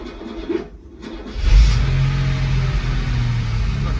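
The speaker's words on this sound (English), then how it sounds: "the first moment of truth is whether this car will start after however many months it's been standing" A Mercedes 107 SL, left standing for months, cranks briefly and its engine catches, settling into a steady, loud, close idle.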